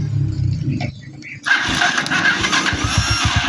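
A motorcycle engine cranks briefly, then catches and settles into a steady, close running idle with some rough, pulsing texture.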